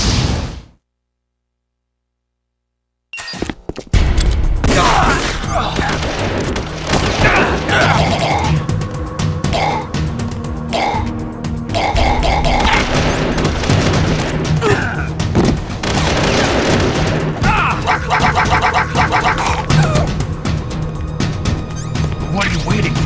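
Bursts of gunfire in the stealth action game Metal Gear Solid: The Twin Snakes, with loud crashes and repeated shots layered over dense game sound and character voices talking throughout.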